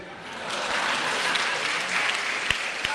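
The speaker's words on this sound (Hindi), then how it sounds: "मजा आ जाए तो ताली बजाना" A large audience at a humorous poetry recital claps steadily, a dense, even wash of applause that keeps going without pause, with no speech over it.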